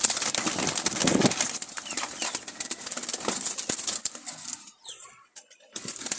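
Wild Jalali pigeons from Dhaka flap their wings in rapid, loud bursts close by, a dense papery fluttering that thins out toward the end, with a faint bird call in the background.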